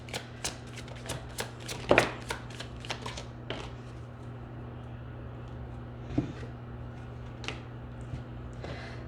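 Tarot cards being handled and shuffled during a reading, heard as scattered sharp snaps and taps, busier at first and then sparser, over a steady low hum in a quiet room.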